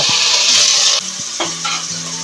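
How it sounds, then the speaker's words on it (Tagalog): Spare ribs searing in a hot pan give a loud, steady sizzle for about a second, then drop to a softer frying hiss with scraping and stirring clatter. "Tutustahin lang muna natin itong ating spare ribs para mas lumabas yung kanyang natural na lasa"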